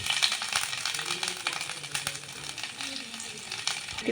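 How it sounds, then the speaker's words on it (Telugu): Chopped ginger and garlic crackle and sizzle in hot oil with a dense, steady spitting and occasional rattling, close and continuous. "ఆయిల్ కొంచెం వేడెక్కిన తర్వాత ముందుగా మనం అల్లం ఇంకా వెల్లుల్లి ఆ రెండింటిని కట్ చేసి పెట్టుకున్నాం కదండి, వాటిని వేసుకుందాం"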